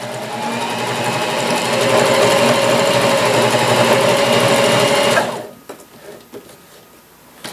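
A Janome HD3000 sewing machine stitches a floating blind hem, a fast steady mechanical whir running loudly and continuously for about five seconds before stopping abruptly, followed by faint handling noises.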